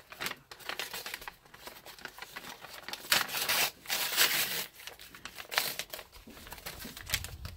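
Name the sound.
package being carefully opened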